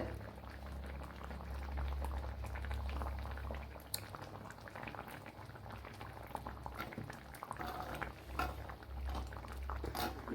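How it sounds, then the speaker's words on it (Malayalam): A pot of vaala fish curry bubbles at a steady, quiet boil, with soft popping and gurgling close by for about ten seconds and no talk over it. "നമ്മുടെ വാള ഫിഷ് കറി ഉണ്ടല്ലോ എല്ലാം തിളച്ച് നല്ലതുപോലെ കുറി വന്നിട്ടുണ്ട്"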